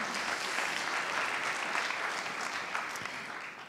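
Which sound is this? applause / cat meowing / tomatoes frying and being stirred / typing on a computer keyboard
applause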